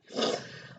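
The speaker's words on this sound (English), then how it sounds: "I don't know if you can hear my tummy roaring in the background" A hungry stomach gives one short, low, growling rumble, close and fairly loud for under a second, with no talking over it.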